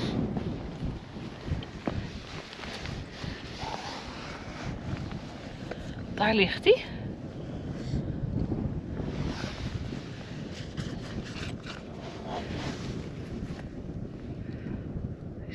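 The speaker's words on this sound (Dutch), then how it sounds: "het waait echt super hard" Strong gusting wind buffets the microphone outdoors, a steady broadband roar with louder gusts, while a person talks over it.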